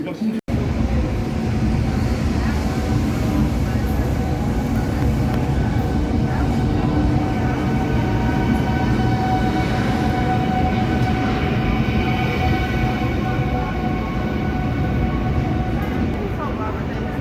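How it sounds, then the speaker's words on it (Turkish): A train rumbles steadily nearby at a station platform with a continuous roar and faint rattling, filling the whole stretch without a break. "Tren saati geldi. Bu treni gönderdik."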